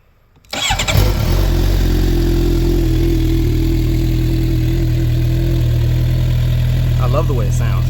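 A 2012 Suzuki GSX-R750 motorcycle fitted with an M4 slip-on exhaust cranks briefly, fires up loudly and settles into a steady, deep idle that continues close by, with a faint blip near the end.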